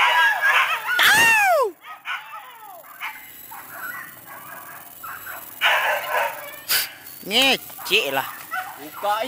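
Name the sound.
hunting dogs barking while chasing a boar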